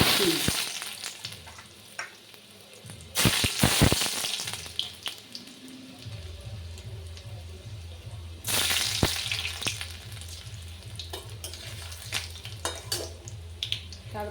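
Fried baby corn tipped into hot oil in a pan, a steady close sizzle with bursts of stirring and clattering, and a low rhythmic hum running beneath.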